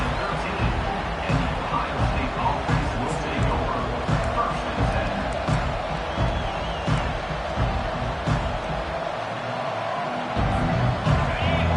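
Video game stadium crowd at an Ohio State vs Miami college football matchup in College Football 25, a steady roar and murmur of spectators running throughout under continuous commentary, with a brief dip in the noise near the end.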